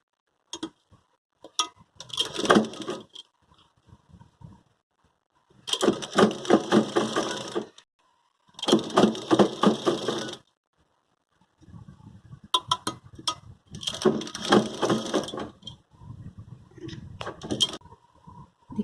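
A sewing machine stitches lace onto a small cotton jhabla dress in several rapid mechanical bursts of rattling, each lasting a second or two, separated by quiet pauses and a few isolated clicks.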